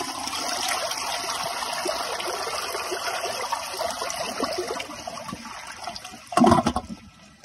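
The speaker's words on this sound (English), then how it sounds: "That time it didn't barely want to siphon out" A 2002 Sanitarios Maracay toilet flushing, a close rushing swirl of water that fades into trickling and refilling, then a short gurgling gulp as the bowl weakly siphons near the end.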